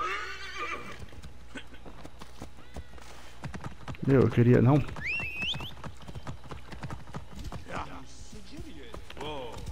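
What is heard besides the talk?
horse neighing and galloping in video game Assassin's Creed Origins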